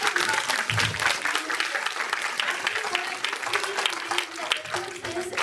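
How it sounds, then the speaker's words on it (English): Audience applause fills a medical college conference hall after a radiodiagnosis department session, a steady dense wash of clapping lasting several seconds with no gaps. "A big round of applause for all."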